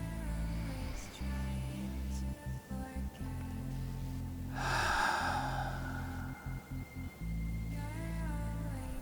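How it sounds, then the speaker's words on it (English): A single deep breath during a seated back stretch, drawn as a brief, breathy rush midway through, close to the mic and set against soft, steady background music. "One more deep breath here."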